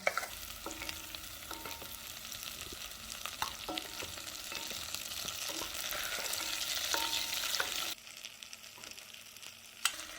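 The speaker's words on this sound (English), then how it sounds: "I'm also going to add, this is just 1 or 2 cloves of minced garlic. Let everything saute and melt down." One or two cloves of minced garlic sauté in a pan with a steady crackling sizzle that runs throughout, while a utensil scrapes and taps against the pan at intervals.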